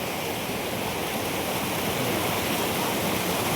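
Water rushes steadily at a waterfall, a broad, even roar of falling water that stays constant and fairly loud for the whole stretch, with no voices.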